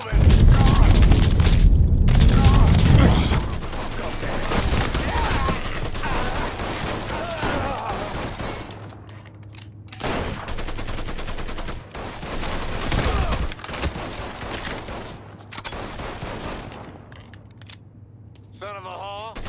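Gunfire in the Mafia 3 video game: heavy bursts and booming shots crowd the opening, followed by sporadic volleys and single cracks, with voices talking in the mix throughout.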